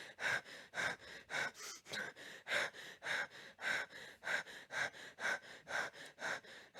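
Character breathing effects from a Unity video game, a close run of about a dozen even, rhythmic breaths with sharp inhales, alone, with one breathing sample crossfading into another.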